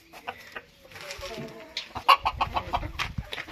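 Bantam roosters cluck and call in a backyard poultry yard, a run of short, close calls and clucks growing busier toward the end, with no talk.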